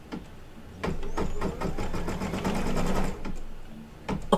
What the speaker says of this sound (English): you gotta check your work and watch it stitch out